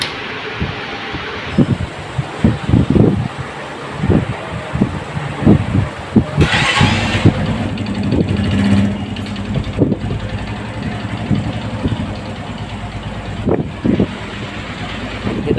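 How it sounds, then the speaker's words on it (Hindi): Suzuki GS 150 motorcycle engine cranking with several sharp bursts before catching, then settling into a steady low idle with irregular knocks and clatters nearby. "ये दोस्तों माशाल्लाह हमारी बाइक जो है वो स्टार्ट हो गई है।"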